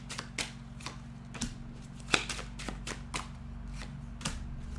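Oracle cards being shuffled and laid out during a card reading, a series of soft, crisp taps and flicks at an uneven rhythm, close and quiet over a low steady hum, with no talking.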